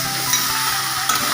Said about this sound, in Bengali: ক্যাংড়া কষা চলছে